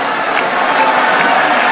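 A large crowd at a political gathering in Congo applauding the Grand Kasai delegates, with dense, loud, continuous clapping and possible cheering filling the whole moment.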